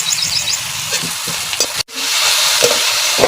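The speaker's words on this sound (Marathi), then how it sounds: "याचा कांदा भाजून घ्यायचा." Onion and garlic roasting in a pan give close, steady sizzling and frying crackle, with stirring scrapes and a brief cut partway through.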